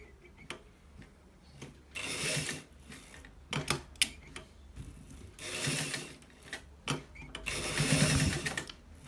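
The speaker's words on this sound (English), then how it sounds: "We are stitching it on a 1/4 inches" A sewing machine stitches fabric for a front pocket in short bursts of rapid mechanical clatter, separated by quieter pauses and clicks as the cloth is turned, heard close without talking.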